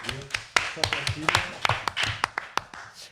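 Quiz show audience in France claps, irregular and fairly loud, while voices talk over it.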